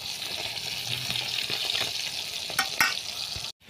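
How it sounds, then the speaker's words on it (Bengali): Japanese puti fish sizzle steadily in hot oil in a pan, a close continuous fry with a couple of sharp crackling bursts near the end before it cuts off abruptly. "জাপানি পুঁটি মাছগুলো ভেজে নিচ্ছি ওলকপি আলু দিয়ে রান্না করব বলে।"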